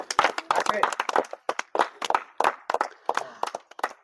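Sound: audience clapping at village wrestling event

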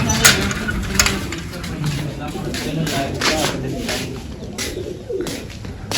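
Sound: pigeons cooing during a pigeon flying contest

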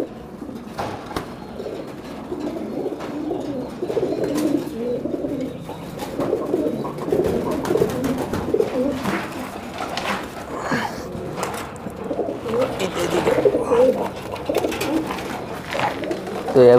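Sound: male pigeon cooing

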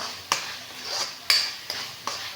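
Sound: mixing rice into mustard green masala in a pan

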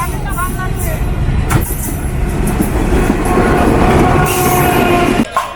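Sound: train passing beside the buffalo market

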